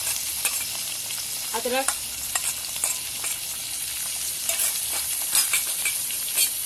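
Onion, tomato, green chili and ginger frying in a pan, a steady loud sizzle with scraping stirs throughout, plus a single short spoken word near the start.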